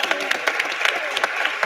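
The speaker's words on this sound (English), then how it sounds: "can we give them a round of applause?" Applause from an audience at an NAACP gubernatorial candidate forum in Princeton, a steady patter of clapping with scattered sharper claps, moderately close and sustained for a short stretch.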